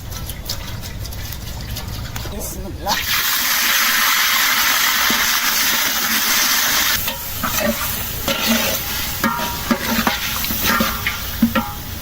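Oil heating in a hot cooking pot at an outdoor family picnic gives a steady, fairly loud hiss and sizzle. It swells after a few seconds, then scattered clinks and crackles come through.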